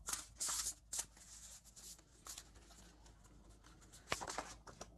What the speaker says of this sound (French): On va reprendre d'autres cartes d'oracle.